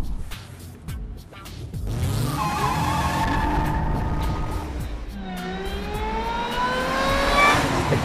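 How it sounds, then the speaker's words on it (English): Car engine fitted with an X-Charger V6 supercharger kit revving and accelerating hard, a loud sustained roar with rising pitch sweeps, brief tire squeal in the middle, no talk. "This X-Charger kit has really made it a tremendous difference"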